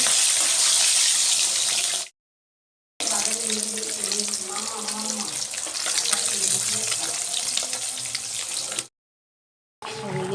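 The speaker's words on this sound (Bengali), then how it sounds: "কিছু মাছ এখানে ভাজা বসিয়ে দিয়েছি" Loud, steady sizzling and crackling of rohu fish frying in hot oil, with two brief cut-outs to silence.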